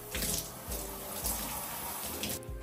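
Warm water from a tap runs steadily over type 4 afro hair during a wash, making a continuous close splashing rush with slight surges and no voices.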